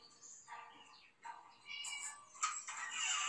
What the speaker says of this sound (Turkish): Miyav kedi.